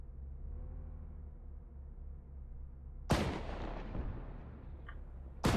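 Artillery gun firing at the Battle of Taipale: two sharp, loud blasts a couple of seconds apart, the first with a long decaying rumble, over a steady low background hum.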